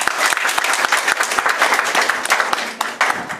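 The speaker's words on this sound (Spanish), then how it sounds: "Fuertes aplausos para ella" Crisp, dense applause from an audience at a diploma graduation ceremony, loud and continuous with sharp individual claps standing out.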